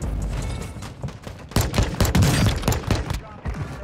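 Rapid, loud pistol gunfire from the KV Broadside in the shooter game Warzone 2, several shots cracking in quick bursts with a few gaps, close and dense over game ambience.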